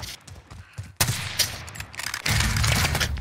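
Gunfire in the video game Call of Duty Warzone, with loud bursts of rapid shots and a sharp crack, then sustained heavy firing toward the end.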